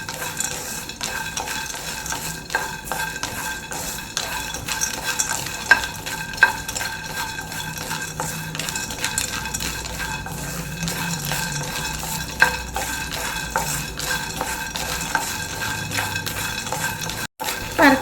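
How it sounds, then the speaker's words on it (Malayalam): Peanuts being dry-roasted in a pan are stirred continuously, giving a close, rhythmic scraping and rattling of nuts against metal with occasional utensil clinks over a low sizzle, steady for the full length without talk. "ഇനി നമ്മൾ വറുക്കാൻ പോകുന്നത് കപ്പലണ്ടിയാണ്"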